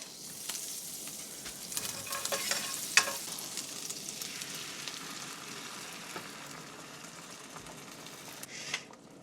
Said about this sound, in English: Alright, give the eggs a quick scramble.